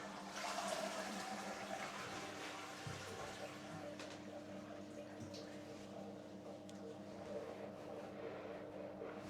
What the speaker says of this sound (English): Toilet again. Does it flush?